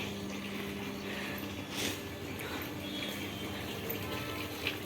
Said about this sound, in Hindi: मैं ऊपर आई हूँ पेड़ों में पानी लगाने